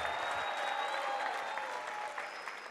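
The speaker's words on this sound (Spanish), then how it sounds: "El aplauso y escándalo para quien se lleva el obsequio." A crowd at a mass wedding event applauds steadily, with cheering and shouts for a prize winner, a continuous dense wash of clapping and voices throughout.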